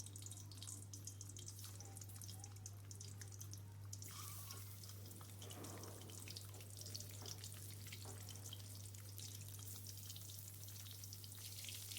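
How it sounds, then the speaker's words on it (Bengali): Cut boiled eggs frying in hot oil in a pan, a steady broadband sizzle and crackle running continuously throughout, fairly faint and unbroken, with a constant low hum beneath it. "এবার ওই তেলেই আমি কেটে রাখা ডিমগুলো ভেজে নেব।"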